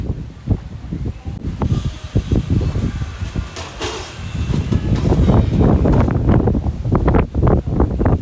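Strong wind buffets the microphone in heavy, uneven gusts at a community garden in New York, a loud rumbling roar that swells and drops throughout.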